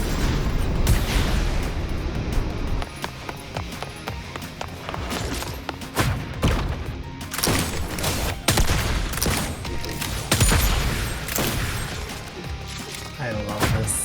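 Rapid bursts of gunfire and crashing impacts from the action video game Wuthering Waves, a dense, continuous barrage with sharp transient hits throughout, mixed under someone talking over the combat.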